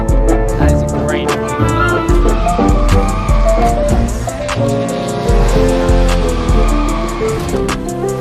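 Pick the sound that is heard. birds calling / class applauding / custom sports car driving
custom sports car driving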